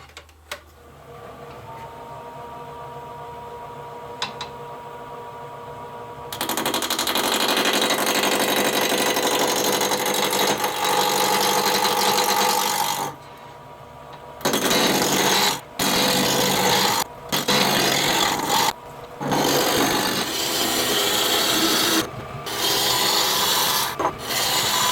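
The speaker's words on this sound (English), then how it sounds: "I have mounted it between centers here at the lathe" Steady, loud rasping scrape of a tool cutting wood spinning between centers on a lathe, running continuously with brief pauses and restarts, preceded by a quieter motor hum.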